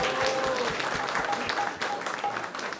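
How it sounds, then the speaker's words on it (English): An indoor audience at a Krishna Katha evening discourse claps in steady, dense applause, fairly soft and fading slightly toward the end. "let's give a big round of applause to everyone who has joined us tonight here"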